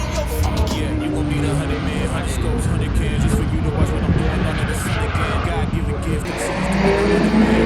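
A car runs test laps on the Dreux racing circuit, its engine roaring steadily and close throughout with a rising surge near the end, while a person talks over it.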